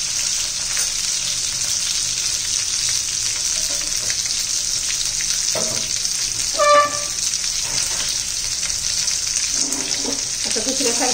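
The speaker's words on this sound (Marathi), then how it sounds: "पहिले एका बाजूने भाजून घेऊया तेलामध्ये" Eggplant pieces fry in oil for a spicy masala vangi, a loud continuous sizzle up close with occasional clinks and stirring sounds and a brief faint voice.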